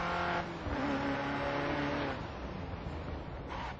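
Race car engine in GRID Autosport during a lap, a loud, continuous drone whose pitch rises through gear changes and then drops, close and alone with no talk.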